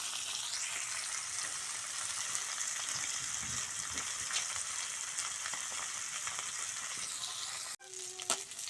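Koi and shing fish fry in hot oil in a home kitchen, giving a continuous, even sizzle and crackle up close. It runs for several seconds without talk, then breaks off abruptly and is followed by a brief clatter.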